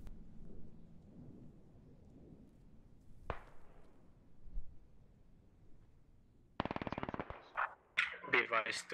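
Gunfire in the tactical shooter game Squad: a sharp lone shot, then a rapid burst of automatic fire followed by several irregular cracks near the end, over a low rumbling background.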